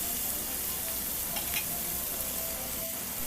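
Tiger prawns sizzle steadily in hot oil in a pan, a dense continuous hiss close up with faint scraping of a spatula, no voices.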